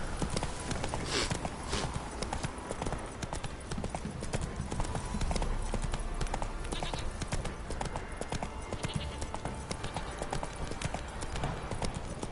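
The horse Roach gallops in a video game, its hooves beating a fast, continuous clip-clop rhythm at moderate volume that runs the whole stretch, with a little talk mixed in.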